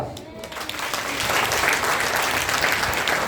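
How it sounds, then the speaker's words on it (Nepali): An audience claps during a sermon at a national Christian youth conference, the applause swelling from a scattered start into a loud, sustained roar. "ताली खै त।"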